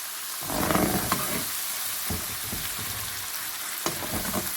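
Tomato puree poured into a pan of sizzling masala for an eggplant and potato curry, a steady loud frying hiss with soft stirring and scraping knocks, no voices.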